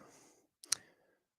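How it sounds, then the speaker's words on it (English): A single sharp click from stock trading software's woodpecker-style alert sounds briefly and faintly, with only a low murmur of room noise before it. "if you hear some clicking, what sounds like a woodpecker in the background, that's Woody. That's bullish flow."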